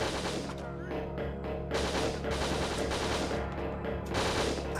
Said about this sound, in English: get used to the sound of the gunfire, because you'll hear that a lot